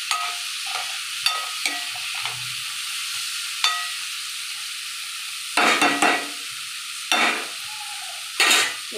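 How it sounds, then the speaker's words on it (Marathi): A spoon scrapes loudly against a pan while okra is stirred with onion and green chilli, giving sharp, irregular scraping strokes over a quiet background sizzle, with longer loud scrapes toward the end. "चमच्याचा ना लय आवाज येते खट्टा खट्टा कॅमेऱ्यात"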